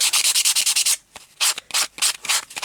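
A piece of board being sanded by hand: rapid rasping back-and-forth strokes in quick bursts, close and loud, with a short pause before the scraping resumes, and no talking.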